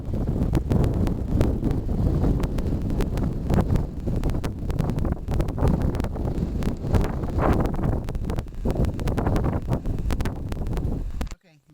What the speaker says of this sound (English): Because the wind is so wicked today,